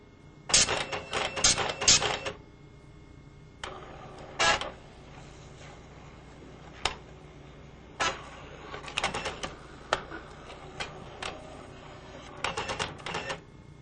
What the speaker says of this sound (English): prints the I and H pattern to check print quality of the impact print head